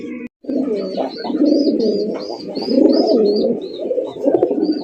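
High-flying Giribaj pigeons at a breeding farm coo in a steady, rolling chorus, loud and close, with faint chirps above and no talking.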